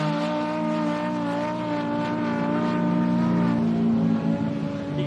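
An Ultra 4 off-road race car with a transfer case drives at the Don River Dash, its engine droning steadily and loudly nearby with rising harmonic revs, no voices.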